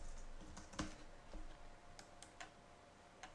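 Text typed on a computer keyboard, a handful of soft, irregular key taps, faint and close in a quiet room.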